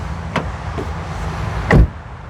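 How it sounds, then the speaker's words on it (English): A car door on a 2026 Subaru Crosstrek Hybrid Sport swings shut with one solid, close thud, after a lighter click earlier on. The idle surroundings stay quiet. "let's listen to the sound of the closing door."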